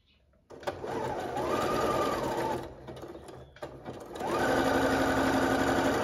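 A domestic sewing machine stitches elastic onto panties in two loud, steady runs of rapid needle chatter, with a short pause near the middle where the motor slows and stops before starting up again.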